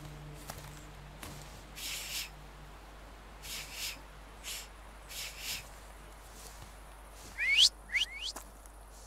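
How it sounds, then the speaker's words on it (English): Whistling in the video game The Thaumaturge comes as a few short, faint bursts spread across a quiet background, followed by two rising whistle-like sweeps near the end. "So, have you mastered whistling?"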